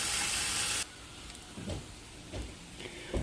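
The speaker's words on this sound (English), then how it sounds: "let some of the steam go out so you can actually see what we're working with" Steam rushes from an Instant Pot pressure cooker holding plov, a loud steady hiss that cuts off abruptly, followed by quieter handling clatter and faint bumps.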